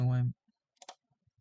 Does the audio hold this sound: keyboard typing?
yes